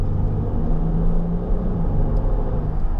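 2016 Range Rover TDV6 diesel shifting up quickly in manual mode from inside the cabin, a steady low engine drone and road rumble without sharp revving peaks.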